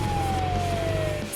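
An ambulance siren wails in one long, slowly falling tone, loud and steady and close, with nothing else standing out.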